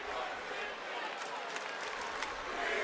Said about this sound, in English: Very vocal crowd already.